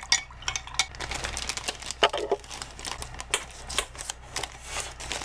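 Sugar is stirred into a red wine mixture made from concentrate, giving a quiet run of light clinks and scraping taps from a spoon against the container, irregular and close, with no talking.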